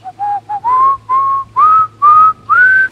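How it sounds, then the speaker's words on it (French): A person whistles a short melody alone, eight clear, loud, rising notes in quick succession with brief gaps between them. "lorsque vous sifflez, vous êtes à proprement parler un instrument à vent"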